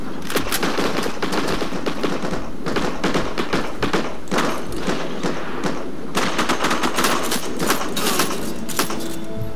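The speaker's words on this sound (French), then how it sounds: "ce truc, ils ont une sacrée cadence de tir." Rapid automatic gunfire with a very high rate of fire from Soviet-faction weapons in the shooter Heroes and Generals: dense, continuous loud bursts of shots with thuds, broken by brief gaps.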